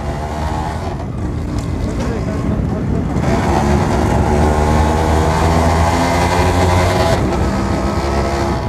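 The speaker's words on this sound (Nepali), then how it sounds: "खतरा कुद्छ यार त्यो बाइक" A modified Yamaha RX 100 two-stroke motorcycle rides through a narrow alley in Nepal, its raspy engine building from a rough burble into a louder, sustained buzzing run, with people talking over it.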